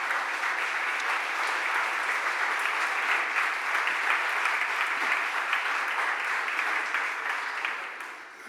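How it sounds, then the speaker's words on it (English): Steady applause from a crowd fills a city council chamber for students in attendance, a dense even clapping that holds for several seconds before tapering off. "Let's give them a round of applause."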